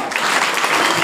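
A brief burst of applause from schoolchildren at a value-based education programme in a Raghunathpur school, dense and fairly loud, clapping without any voices over it.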